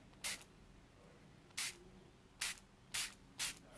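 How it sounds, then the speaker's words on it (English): A water spray bottle misting onto inked cardstock: five short, bright hissing spritzes at uneven intervals, close and fairly faint over a quiet room. "I'm just going to spray it almost straight down over the cardstock, and watch this magic once the water hits the ink"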